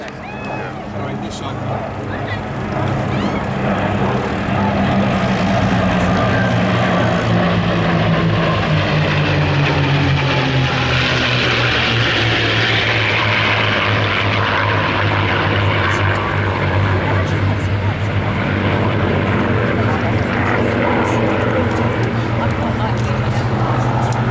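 Piston engines of a P-51 Mustang fighter droning loudly and steadily as the aircraft passes, with a slowly shifting pitch, while a narrator talks over it.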